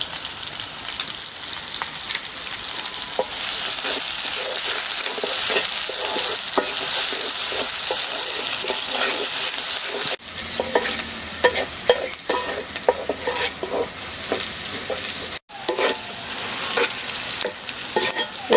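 Onions fry and sizzle steadily in a pan with salt, with repeated scraping and stirring strokes throughout; a brief dropout occurs partway, then the close, busy sizzle resumes.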